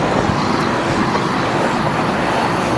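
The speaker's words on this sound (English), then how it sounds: "There goes the Langford fire engine." A fire engine from Langford passes on the road, a steady broadband engine and road roar that fills the whole short stretch at close range, with traffic around it and no clear siren.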